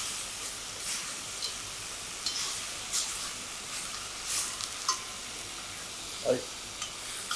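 Salt-koji cured pork browning in oil in a pan over medium heat, giving a steady close sizzle with small pops and crackles, and a brief spoken word near the start.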